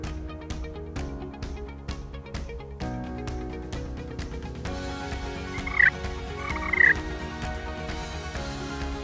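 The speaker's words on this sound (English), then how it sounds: "There's a gobbler, 150 yards up the ridge" Two short, distant gobbles from a wild turkey gobbler about 150 yards up a ridge in the Black Hills during a spring hunt, each a brief rattle rising over steady background music.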